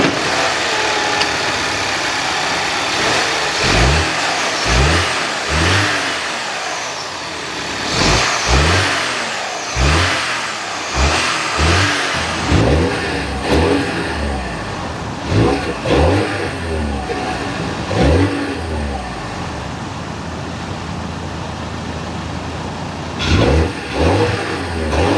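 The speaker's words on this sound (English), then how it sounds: "Under the hood is the 2-liter twin-power turbocharged inline-4" A BMW X2's 2-liter twin-power turbocharged inline-4 revs repeatedly, with loud bursts of rising engine roar separated by settling idle, close and mostly alone over about 25 seconds.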